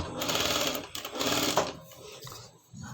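A sewing machine stitches a kids' frock in a quick, loud, whirring burst lasting about a second and a half, then slows into softer uneven stitching and handling sounds.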